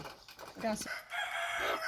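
A five-month-old rooster crows nearby, a strained rising call with harsh overtones, over faint background noise.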